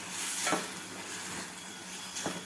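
Ground chili masala fries in a pan as a soft, continuous sizzle. Two brief scraping stir strokes cut through, one near the start and one near the end, and no one speaks.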